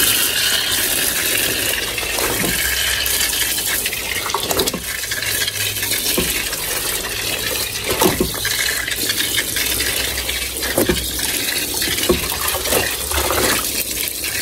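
More water is poured into a basin for dyeing jeans black, a continuous close gushing and splashing that runs steadily throughout with small irregular knocks.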